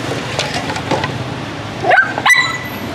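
A dog tied on a homemade pull cart whimpers and gives a couple of short, close yelps, rising thin cries near the end over a murky outdoor background, with no one talking.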